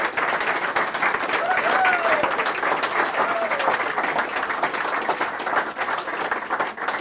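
An audience applauds at the end of a solar physics lecture, producing a broad, sustained roar of clapping that holds steady for around seven seconds, with a faint whistle briefly rising through it.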